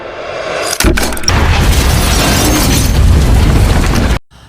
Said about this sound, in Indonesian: Lalu ledakan pun terjadi.